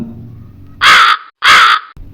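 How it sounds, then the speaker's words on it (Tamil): Crow giving two loud, harsh caws in quick succession, close and clear, with a faint low murmur before the calls. "அதன் பின்பு பாட்டியின் வீட்டு அருகே அந்த மரக்கிளையில் உட்கார்ந்தது காகம்"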